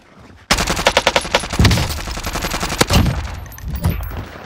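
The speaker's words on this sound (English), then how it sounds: "Dude, this gun literally shreds." Rapid automatic fire from a Krig 6 rifle in Warzone, a loud close burst of evenly spaced shots that starts abruptly, runs for a few seconds, then gives way to fainter scattered shots.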